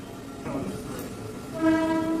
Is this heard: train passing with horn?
yes